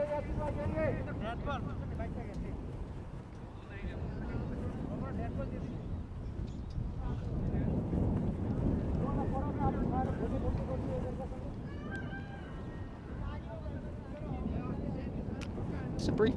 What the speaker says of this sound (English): the wind has suddenly just picked up. Here it's a big gust going across, a lot of equipment flying around all over the place